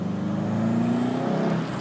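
A car approaching and passing close by on a road, its engine note rising and then falling away over under two seconds, loud and steady with no talking.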